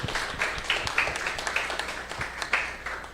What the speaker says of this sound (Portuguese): Agora dá uma salva de palmas para vocês que estão aqui até agora.